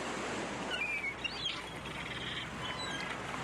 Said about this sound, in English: We've got some Foley there, some seagulls by the ocean